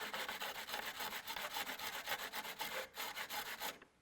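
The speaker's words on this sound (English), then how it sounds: "you can just take a little sanding block, put your arrow in your spinner, and just square that thing up" A sanding block rasps steadily across the cut end of a carbon arrow turning in a spinner, close and fairly quiet, with fast even rubbing strokes and no talk.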